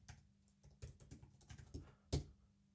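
Fingers tap out a short, irregular run of keystrokes on a computer keyboard, close and quiet, with one sharper key hit near the end and no talk.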